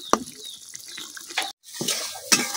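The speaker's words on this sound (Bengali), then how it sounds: "এখন আমি মশলাটা কিছুক্ষণ কষাইলাম।" Spice masala stir-fried in a pan with prawns, heard as intermittent close scraping stirs over a light sizzle, with short bursts and one brief silent gap.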